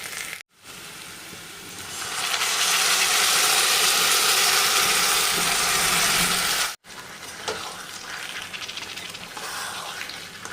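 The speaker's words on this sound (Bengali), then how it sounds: "মশলা দিয়ে মাখানো যে মাংসটা আছে সেটা আমি দিয়ে দেবো" Spiced chicken hitting hot oil with browned onions in a pan, a loud dense sizzle swelling after a brief pause, then settling into steady quieter frying with stirring clatter.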